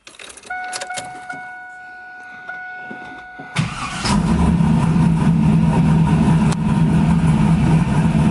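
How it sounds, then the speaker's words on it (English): A Trans Am engine idles with a strong, steady low rumble as the steering is turned lock to lock after a power steering cooler install. The engine comes in loud after a quieter stretch of electrical whine and clicks. "going to cycle the wheels back and forth a little bit"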